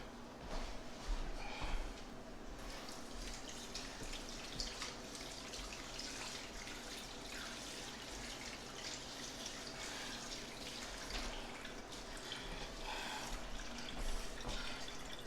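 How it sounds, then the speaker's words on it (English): Tap water runs steadily into a sink while hands are washed, a continuous splashing hiss with faint drips, close and moderately loud with no talking. "before you do anything else, you're gonna wash your hands"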